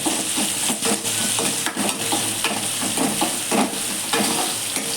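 Onions sautéed with a sprinkle of salt in a pan for semiya upma, a steady loud sizzle with repeated scraping stirs of a spoon throughout.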